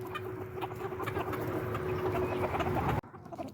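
Silkie chickens cluck softly and repeatedly nearby, a flock calling out over a faint steady background hum before it cuts off abruptly.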